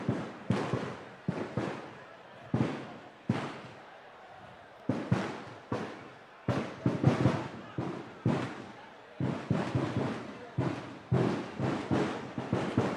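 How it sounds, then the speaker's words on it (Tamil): Firecrackers crackle outdoors at a felicitation ceremony, a rapid irregular string of sharp bangs and pops going off one after another, fairly close and loud, with voices in the background. "டேய் பட்டாசு நிறுத்த சொல்லடா போய்"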